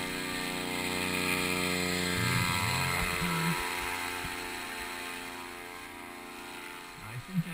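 A paramotor trike engine runs at full throttle in flight, a steady loud droning buzz with stacked harmonics that holds constant throughout, with brief voices under it.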